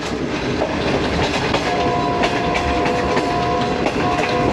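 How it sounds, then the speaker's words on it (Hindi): A train runs along main line 1 at Shahdara Bagh Junction near Lahore, a steady loud rolling rumble with rhythmic clatter of wheels and faint squealing tones throughout, with no voices. "दरमियान वाली जो मेन लाइन 1 है उस पर एक ट्रेन जा रही है"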